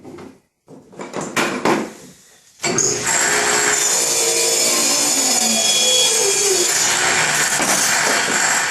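A table saw set up as a jointer with a jig shaves a thin layer from wood stock, starting with a few clunks and a brief spin-up, then a loud, steady whining cut with a grinding rasp.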